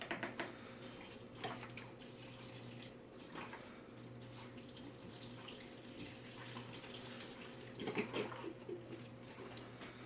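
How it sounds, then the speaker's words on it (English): Beef broth glugs from a carton into a pot of chili, a steady watery pour running for several seconds with a few louder gurgles near the end, no talking. "we're going to add this beef broth"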